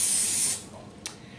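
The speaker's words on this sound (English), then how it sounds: "And just spray the pan in there so the oatmeal comes out really nice." Cooking spray hisses in a short, loud burst into a baking pan for baked oatmeal, then cuts off, followed by a brief faint second puff in a quiet kitchen.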